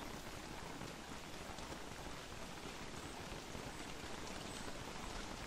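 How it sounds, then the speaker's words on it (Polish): Rain of frogs falling in the video game Don't Starve, a steady, dense patter of rain-like noise that fills the whole stretch evenly at moderate level, with no voices. "deszcz żab!"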